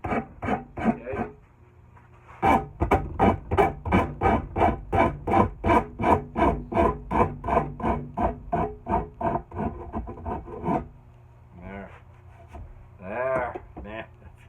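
A rasp files a bevel onto a wooden tool handle in a workshop, a long run of steady, rhythmic back-and-forth strokes, loud and close, with brief pauses and some softer scraping at the ends.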